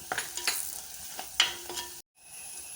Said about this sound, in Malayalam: ഇതിലേക്ക് ഗരം മസാല, മല്ലിപ്പൊടി ഇവ ചേർക്കുക. നന്നായി ചേർക്കണം.